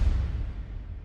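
A single deep orchestral drum hit from a percussion library, recorded with close mics, booms low and heavy, then decays over about a second with no other sound.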